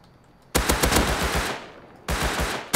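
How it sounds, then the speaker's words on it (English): Automatic turret in the survival video game Rust firing two loud rapid bursts of gunfire, a long one and then a shorter one, with no talking. "Is that the turret shooting?"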